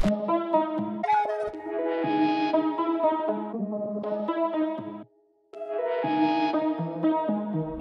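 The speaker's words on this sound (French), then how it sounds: "c'était pour avoir un peu un son distorsionné, un peu glitché" A distorted, glitchy trap synth, pitched down and processed through a multiband compressor and light reverb, plays stuttering pitched chords with a metallic edge, cutting out for a brief moment before resuming.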